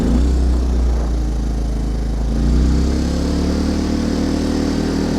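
A Yamaha 2000 generator with a low-oil alert problem keeps running on choke, its engine droning steadily and close with a slight swell in the middle, uninterrupted and without talk.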